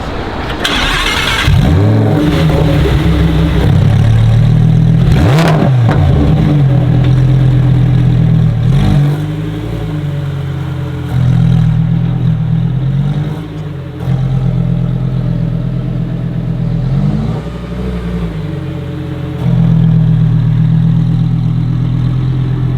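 A Lamborghini Huracan STO in London gives a loud start-up bark, then repeated sharp revs that swell and fall over a steady, close idle, with no talking.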